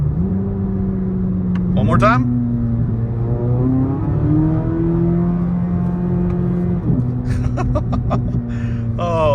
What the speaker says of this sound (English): Let's downshift it.